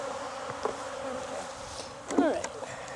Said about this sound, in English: A lot of bees, but